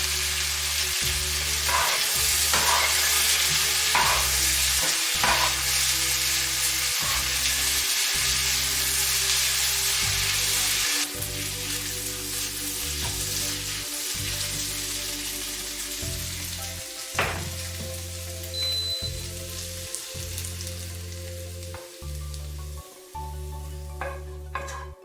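Lightly fried onion crackles and sizzles in a pan as salt and sugar go in, a steady close frying hiss that softens gradually, with occasional stirring clicks and taps.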